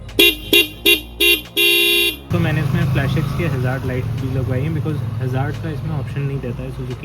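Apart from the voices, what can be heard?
horn of a Suzuki V-Strom 250 motorcycle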